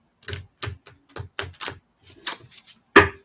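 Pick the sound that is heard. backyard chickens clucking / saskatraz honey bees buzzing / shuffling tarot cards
shuffling tarot cards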